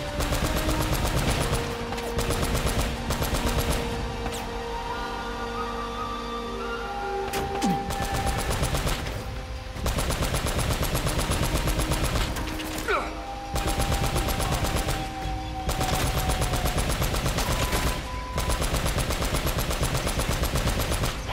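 Sustained automatic fire in Uncharted: Drake's Fortune, a long dense burst of machine-gun rounds that runs nearly unbroken for over twenty seconds, with short gaps, over game music and ambience.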